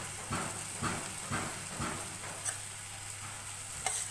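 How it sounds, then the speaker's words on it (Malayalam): Grated coconut sautés in a pan while making horse gram chutney, a steady close sizzle with rhythmic scraping stirs of a spoon against the pan, no voices. "നമുക്ക് തേങ്ങയും കൂടെ ഇട്ട് കൊടുത്ത് നമുക്ക് നന്നായിട്ട് വഴറ്റിയെടുക്കാം"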